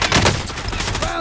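Dense gunfire in Call of Duty Modern Warfare, a rapid burst of overlapping shots cracking close and loud in quick succession, filling the short stretch with a faint voice under it.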